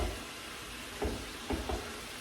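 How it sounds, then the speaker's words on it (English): Chopped vegetables and bell peppers sautéing in a pan for bacalhau, a soft steady sizzle with a few stirring clunks, faint and close, without speech. "I want to saute this until they're all translucent"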